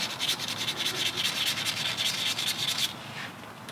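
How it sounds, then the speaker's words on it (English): Sandpaper rubs back and forth over a Miata rear brake caliper part in quick, even strokes for about three seconds, close and fairly quiet, then stops. "I've got some sandpaper. I'm going to smooth that up."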